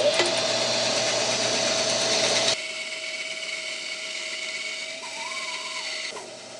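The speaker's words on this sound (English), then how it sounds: "we'll cut this off at the bandsaw. I got mine taped together so I can cut them both at the same time." Bandsaw slicing through two wooden folding-chair pieces taped together, a loud steady whine with hiss that drops to a quieter continuous hum partway through as the cut finishes, no talking.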